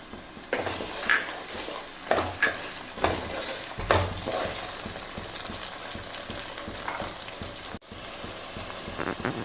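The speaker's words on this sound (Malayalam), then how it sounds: "ഇതിലേക്ക് നമുക്ക് പച്ചമുളകും കൂടെ ചേർത്ത് കൊടുക്കാം" Green chillies sizzle in a pan of oil for lemon pickle, with a steady close frying hiss and a few louder crackling bursts and stirring knocks, no talking.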